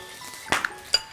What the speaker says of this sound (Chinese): 这个鸡蛋下锅，香。